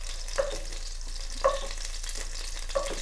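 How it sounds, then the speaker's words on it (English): Bell pepper and potato curry fries in oil in a pan, giving a soft continuous sizzle with a few sharper pops and spatters of oil, close up and alone. "extra oil in the pan that might be hurt you, this little things getting out from the pan"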